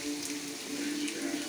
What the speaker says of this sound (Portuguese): atacou essa chuvona aqui